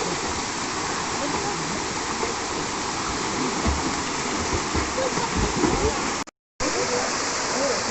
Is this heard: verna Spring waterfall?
yes